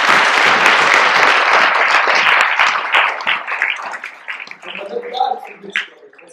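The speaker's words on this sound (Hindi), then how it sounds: "ताली बजा दो यीशु के लिए।" Congregation applause at a Hindi church sermon, a dense burst of clapping that swells loud for about three seconds, then thins into scattered claps and faint voices as it dies away.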